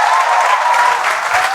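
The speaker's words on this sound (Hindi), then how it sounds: "तो प्लीज भरत के लिए एक बार जोरदार जो है तालियां।" A short burst of loud, steady applause from a crowd, dense clapping filling the moment without pause.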